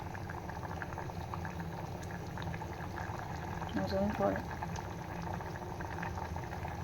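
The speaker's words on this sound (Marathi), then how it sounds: "हे पहा मस्तपैकी असं आपलं सार असं उकळत आहे" Thin fish curry (sar) of small mandeli fish bubbling at a rolling boil in a pot, a soft continuous gurgling simmer heard close, with a voice speaking briefly over it.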